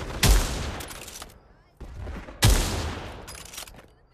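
Gunshots in the Pavlov WWII shooter, two sharp loud rifle cracks about two seconds apart, each followed by a long echoing reverberant tail that fades out.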